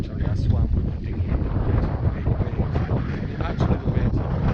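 Heavy wind buffets a boat lying at anchor in rough conditions, a constant loud roar with gusty low rumble and microphone buffeting filling the whole stretch, no talking.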